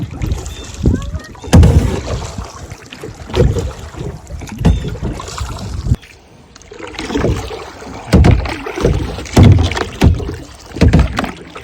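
Kayak paddling on a river: rhythmic paddle strokes and splashes with water sloshing against the hull, close and loud, wind buffeting the microphone, and people talking over it.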